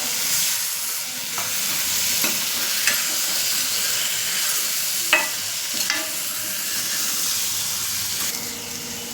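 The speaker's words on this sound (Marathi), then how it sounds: "आता मी हे वांगी टाकत आहे चांगलं फिरवून घेत आहे" Brinjal pieces fry loudly in a hot pan at home, a dense continuous sizzle and hiss with occasional scraping taps of a spoon as they are stirred, close and without speech.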